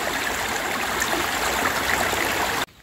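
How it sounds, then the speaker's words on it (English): Outdoor waterfall area with a steady, loud broadband rush of falling water, continuous and close, ending abruptly. "on this beautiful waterfall area"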